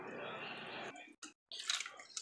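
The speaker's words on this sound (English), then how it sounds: "Let me clean this out with just a little bit of the bouillon to get all of the goodness out." Bouillon poured and swished through a blender jar to rinse out salsa for a stewed chicken hearts dish, a close, steady splash of liquid for about a second, then brief drips and sloshing.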